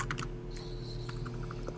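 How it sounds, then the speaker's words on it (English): Fast typing on a computer keyboard comes through as quick, faint bursts of clicking over a low, steady background hum, picked up at a distance during a podcast. "I hear some mad typing going on."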